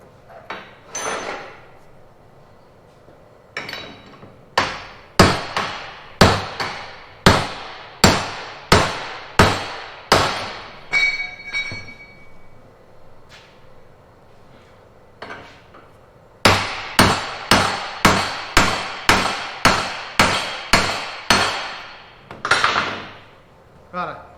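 Repeated hammer blows knock a part back into place on a rat rod build, loud sharp metallic strikes in quick bursts with short pauses between runs.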